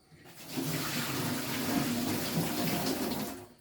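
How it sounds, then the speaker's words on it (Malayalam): Boiled, partly cooled water is poured off and drained away in a steady, continuous splashing stream that starts after a brief pause and runs for a few seconds, close and moderately loud. "ഈ വെള്ളം അപ്പോൾ ഞാനത് നൂറ്റി കളയട്ടെ"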